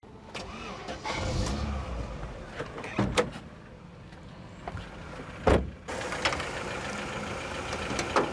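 A 2009 Daewoo Lacetti car's engine, bonnet open for inspection, runs with a steady mid-range hum and a few sharp clicks and thumps, like a door or latch, through the clip.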